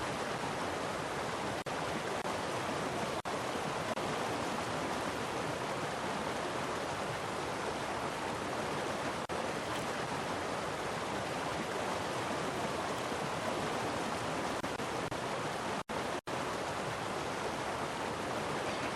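Waterfall in the Call of the Wild: The Angler fishing game, a steady broad rushing roar of falling water heard close and unchanging throughout, with only a couple of brief dropouts near the end.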